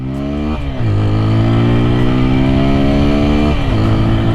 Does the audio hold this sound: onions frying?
no